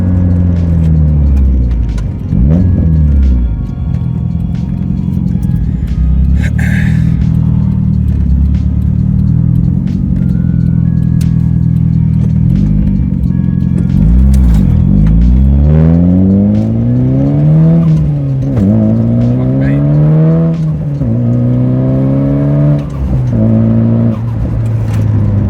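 A Nissan Pulsar GTiR's turbocharged engine revs repeatedly from inside the car, with rising and falling pitch sweeps as the turbo spools quickly. The engine is loud and continuous throughout, with no talk.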